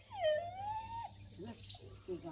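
A dog in a Gujarati village gives a wavering, gliding howl that slides into a whimpering whine, close and fairly loud, followed by softer broken whimpers over low background hum.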